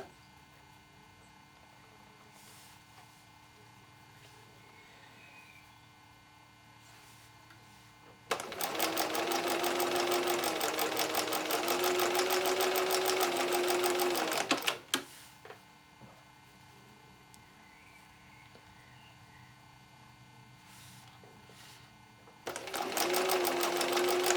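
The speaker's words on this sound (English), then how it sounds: "I'm just going to carry on stitching my segments together, locking in the seam allowances as I go" A sewing machine stitches quilt segments with a 1/4 inch seam in two bursts: a long, steady whirring run that stops abruptly, then a short restart near the end, with quiet room tone in the gaps.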